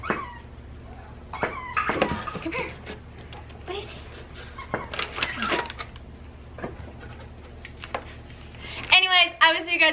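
A dog whimpers and yips intermittently with scattered clatter and rustling, and a voice talks briefly at the end.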